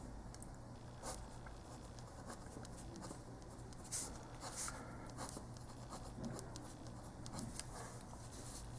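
Marker or chalk strokes on a board, a steady run of soft scratchy taps and squeaks through about nine seconds, faint and close, with no talking.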